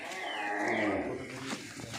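A Sahiwal cow gives one long, loud, close moo that falls away after about a second, with faint farm background after.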